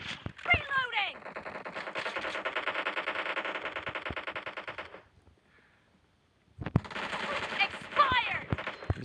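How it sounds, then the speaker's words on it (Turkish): Bursts of automatic gunfire in the game PUBG Mobile, a long rapid volley, a short pause, then more rapid shots with single cracks mixed in, loud and close. "Sen kime sıkıyorsun? Oy, bu da sıkıyor."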